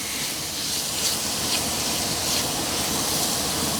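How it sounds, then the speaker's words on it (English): Meat with ground cardamom, cinnamon and spices sautés in a hot pan, giving a steady, close, broadband sizzle and hiss that stays even and continuous, with no talk over it. "And we're going to saute that up with the meat."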